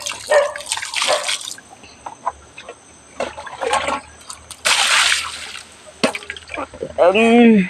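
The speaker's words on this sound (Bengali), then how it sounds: "পাওটা ধুয়ে নিই পায়ের ভিতরে কাদা লেগে গেছে" Water splashes and drips in uneven bursts as muddy feet are washed, with voices talking nearby and a chicken clucking toward the end.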